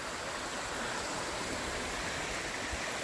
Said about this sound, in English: Hiking along the side of this little creek here.